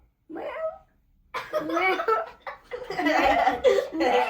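A child mimics a cat with a short meow, pauses, then gives a longer run of meowing sounds mixed with giggles, close and fairly loud.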